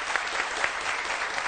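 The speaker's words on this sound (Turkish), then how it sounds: "Bu hanımefendiye bir alkış rica ediyorum." A short burst of dense, steady applause from a TV talk show studio audience, many hands clapping at once.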